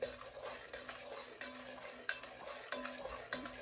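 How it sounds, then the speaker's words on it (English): Sugar being stirred in a pan as it melts for pecan candy, a continuous scraping and swishing of a spoon against the pan with faint sizzling, quiet and close, no voices. "You hear that sugar? It's disappearing."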